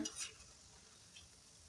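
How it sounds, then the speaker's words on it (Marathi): Shankarpali dough pieces deep-frying in oil, a soft, steady sizzle with a couple of faint stirring clinks near the start. "तळून घेत आहे तर बघा आता जवळजवळ ह्या तळून झालेल्या आहेत"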